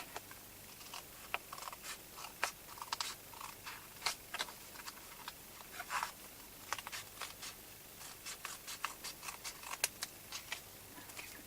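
Scissors snipping paper for a steampunk art journal page, a series of quiet, crisp cuts with light rustling between them, close up and without talk.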